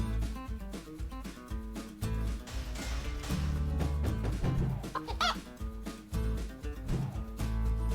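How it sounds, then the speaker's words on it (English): Clucking chickens from the farming video game Farming Life, loud and repeated over busy game music that runs throughout. "The chicken sound was right on."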